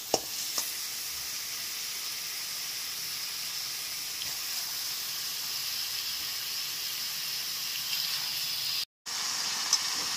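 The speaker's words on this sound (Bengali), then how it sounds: "এর মধ্যে ম্যারিনেট করা চিকেনের টুকরোগুলোকে দিয়ে দিচ্ছি।" Marinated chicken pieces sizzle steadily in a hot pan over a high gas flame after fried onion paste, a continuous frying hiss with a few brief clicks and a momentary break near the end.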